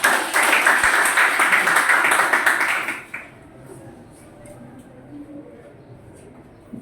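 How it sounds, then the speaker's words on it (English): Classroom clapping for a student presenter in a writing class, a burst of many hands for about three seconds that stops abruptly, followed by quiet room tone. "May we clap for Mylene."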